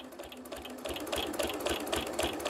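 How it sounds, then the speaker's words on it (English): Close, steady mechanical chatter comes from a sewing machine stitching fabric for a bowl cozy, with rapid rhythmic needle clatter that picks up after a short lighter start and runs without pause. "And I'm just going to go ahead and stitch"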